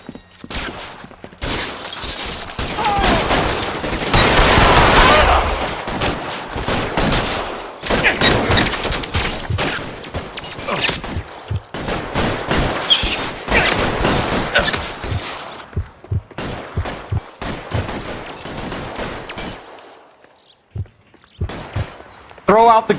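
Game-world shootout in L.A. Noire, with loud bursts of gunfire and shattering impacts. Rapid shots cluster through the middle, then thin to scattered cracks near the end, with voices mixed in.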